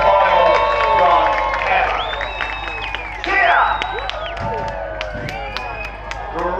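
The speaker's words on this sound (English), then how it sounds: "let's hear a final cheer, not only for Team Typhoon, but also for the Boxkart Bash" Crowd cheering for Team Typhoon at the Burghfield Boxkart Bash, an outdoor box kart race event: loud, lively whoops and shouts from a sizeable crowd, rising again midway, with some clapping mixed in.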